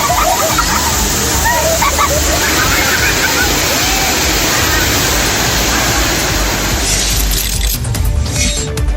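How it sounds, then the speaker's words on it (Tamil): Monkey Falls near Coimbatore roars as a steady wash of falling water over rocks with many tourists bathing, the broad splashing rush filling the whole scene loudly and evenly, with faint crowd sounds mixed in. "கோவை குரங்கு அருவியில் வார விடுமுறையை ஒட்டி ஏராளமான சுற்றுலா பயணிகள் நீராடி மகிழ்ந்தனர்"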